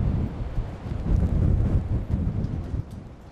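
Strong gusty wind roars during a snowstorm in Esashi, Hokkaido, with gusts reaching 26.5 metres per second, as a continuous low, heavy buffeting rumble that swells and fades without any voices.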